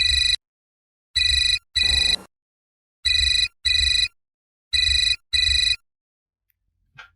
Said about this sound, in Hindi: I'm damn sure ये विशाल का ही फोन होगा